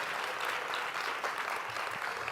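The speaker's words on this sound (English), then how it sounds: "let's give him a big round of applause" A convention audience gives the deputy director a sustained round of applause, and the clapping stays dense and even throughout at a moderate distance with no voices above it.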